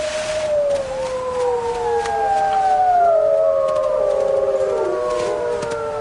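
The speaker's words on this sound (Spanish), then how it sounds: "Ahora escucha aullidos que le resultan familiares." Several wolves howl in long, overlapping, gliding tones that rise and fall together, a wild pack on a mountainside heard at moderate distance with no talk.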